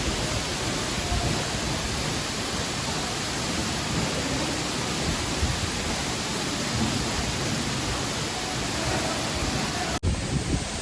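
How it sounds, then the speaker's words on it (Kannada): A forest waterfall sends water plunging forcefully from above, making a loud, continuous close-up roar of rushing water that holds steady throughout, with no voices. "ಫುಲ್ ನೀರು ಸಿಕ್ಕಾಪಟ್ಟಿ ಫೋರ್ಸಲ್ಲಿ ಬರ್ತಿತ್ತು ತಿಳ್ಕಾಣಿ."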